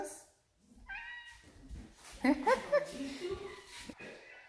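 A house cat meows several times in short, tonal cries, close by, with people talking around and between the calls in a quiet indoor setting.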